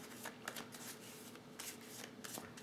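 Tarot cards shuffled and drawn by hand, soft riffling and flicking of card stock in quick bursts, quiet and close.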